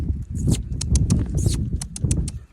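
A horse canters on the lunge line over poles, its hoofbeats thudding in a quick, rhythmic pattern close by, with a trainer's voice and clicking cues mixed in.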